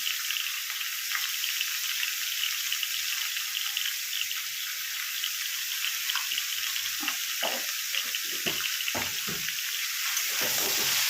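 Bottle gourd frying with turmeric in a pan gives a steady, close hiss of sizzling oil that runs unbroken throughout, with a few soft bumps and stirring knocks toward the end.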